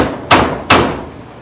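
Two sharp, close taps strike a car body panel during fitment and door-gap adjustment, spaced under half a second apart, each ringing briefly before fading.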